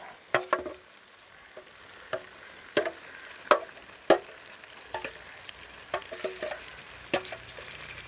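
Chicken curry for an Afghan-style dish being stirred in a pan, with a series of sharp scraping and clinking strokes at an irregular rhythm over a soft steady sizzle, close and fairly quiet.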